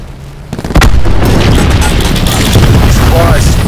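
A cluster grenade goes off in Black Ops 4: a sudden loud boom about a second in, followed by a dense, sustained crackle of overlapping blasts and debris that stays loud to the end.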